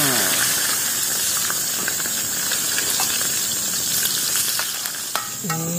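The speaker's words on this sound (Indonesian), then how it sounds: "Kita goreng lagi terongnya untuk sayurnya." Eggplant sizzles in hot oil in an outdoor cooking setting, a steady loud frying hiss with small pops throughout, ending with a brief clink of a utensil.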